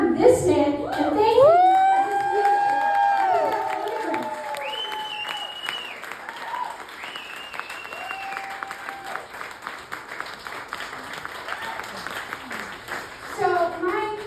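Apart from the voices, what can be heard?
crowd cheering and applauding for Sam Sanchez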